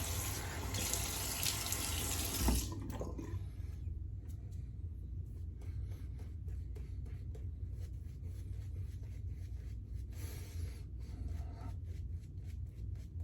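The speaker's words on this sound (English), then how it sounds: "Splash just a little bit more water on there." Water runs and splashes at a sink during a wet shave with a 1930s Gillette safety razor and Magique soap, a steady close rush that is loudest at first and then settles into a continuous flow.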